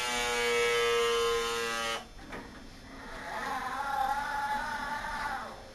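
A Compass Drive prototype motor moves a linen trolley sideways, giving a steady, loud electric whine with strong tonal harmonics for about two seconds. A lower, quieter motor hum and rolling noise follow.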